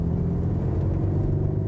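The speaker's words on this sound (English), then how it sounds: "But sadly, the sound doesn't come from the exhaust or engine. It's an artificial noise boost." A Peugeot 308 in sports mode gives off a steady, low, droning engine roar that is artificially boosted through the speakers, heard from inside the car as a continuous close hum with no talk.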